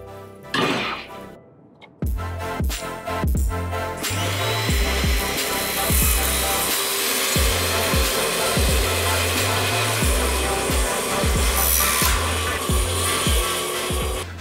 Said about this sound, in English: cut those 2 very top and very bottom planks off